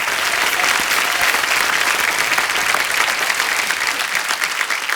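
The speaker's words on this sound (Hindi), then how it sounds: "जोरदार तालियां डॉक्टर कुमार विश्वास जी के लिए" Loud, continuous audience applause welcoming the poet Dr. Kumar Vishwas onto a comedy talk show stage, a thick, steady roar of many clapping hands that holds level throughout.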